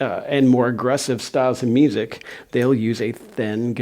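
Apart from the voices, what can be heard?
No everyday noises stand out.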